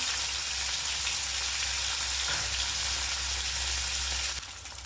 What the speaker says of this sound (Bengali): তেল গরম হয়ে গেছে, এবার 2 পিস মাছ নিয়েছি, ভেজে নেব।